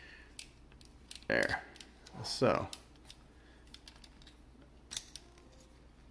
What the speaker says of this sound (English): See, I don't like that clicking sound